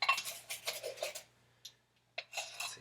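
A metal teaspoon clinks and scrapes in a tin of baking powder while measuring for cookies, giving bursts of light metallic clatter, a short pause, then more scraping and tapping up close.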